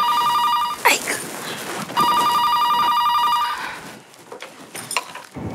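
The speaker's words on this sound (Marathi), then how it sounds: "त्या घरात फोन वाजला." Two bursts of a household telephone's bright electronic ringing sound in a home, each lasting over a second, with clattering movement and room noise between and after the rings.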